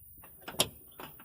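Plastic door panel clips on a 2011 Hyundai Genesis Coupe 2.0T snap into place with three sharp, close clicks over about a second.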